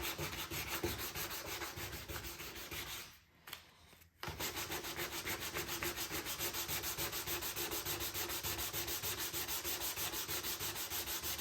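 A Polaris Sportsman 450 part is sanded smooth by hand, making steady, rhythmic rasping strokes up close that stop briefly partway through and then carry on.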